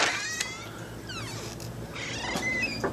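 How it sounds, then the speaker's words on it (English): A house cat meows several times, drawn-out rising and falling calls up close, with short gaps between them and a low steady background hum. "Kitty."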